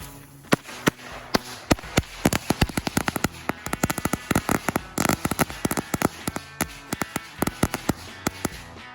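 Five firework packs twisted together on the Fourth of July crackle off in rapid, irregular bursts of sharp bangs, dozens of close pops firing in quick clusters for the whole nine seconds.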